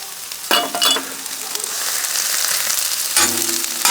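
Frozen thin-sliced ribeye sizzles loudly on a Blackstone griddle, with a couple of sharp scraping stirs near the start and another toward the end over a steady frying hiss.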